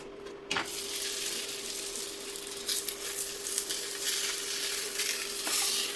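Holige (obbattu) sizzling steadily on a hot griddle, a continuous close frying hiss with a steady hum underneath and a couple of brief sharp clicks, no voices.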